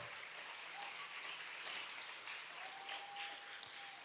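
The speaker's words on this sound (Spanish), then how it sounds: "Vamos, darle un aplauso porque ya vino Jesús." Congregation in a church applauding steadily, a dense, even wash of clapping that holds throughout with a faint voice or tone drifting underneath.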